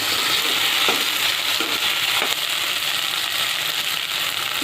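Onion and ginger-garlic paste fry in a pan with a steady, loud sizzle that fills the clip, broken by a few faint clicks of stirring; no voices.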